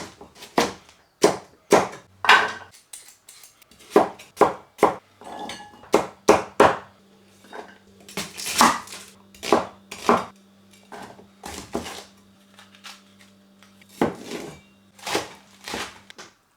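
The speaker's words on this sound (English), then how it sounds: "Hopefully I've not bored you to death with my chopping and peeling of vegetables." Vegetables for a healthy soup are chopped and peeled on a board: sharp, irregular knife knocks and scraping strokes, close and clear, with short pauses and a faint background hum.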